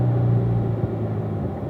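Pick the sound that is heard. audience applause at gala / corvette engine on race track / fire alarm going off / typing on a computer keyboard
corvette engine on race track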